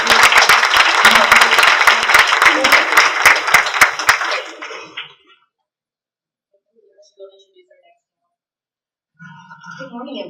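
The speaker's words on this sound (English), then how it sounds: "So we're going to clap for her because AARP is helping us." A conference audience at an economic development launch event applauds an AARP sponsor representative, loud dense clapping for about four seconds that quickly fades into near silence, followed by faint speech.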